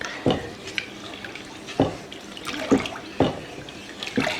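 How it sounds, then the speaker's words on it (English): Dal cooked with tomato is stirred in a pot as it comes up to a boil, giving about five scraping, sloshing strokes spaced irregularly over a low wet bubbling background, close and moderately loud. "Let this thing come to a boil, give it a nice mix."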